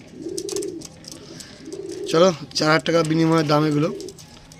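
Madras pigeons coo in a close, throaty rolling series of several calls, overlapping with someone speaking nearby.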